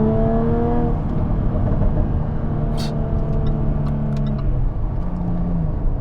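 A 2017 Jaguar F-Type S with a V6 pulls hard under acceleration, its engine note holding steady harmonic tones that climb and shift as it gears through, heard from inside the car.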